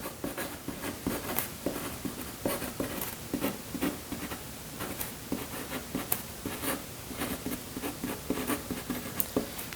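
Pen writing by hand on paper during a maths oral exam, producing a continuous series of soft scratching strokes and light taps close by, with no talking.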